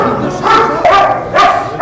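Several dogs bark and yip in short bursts at a stray-animal shelter, three loud close barks rising and falling in quick succession.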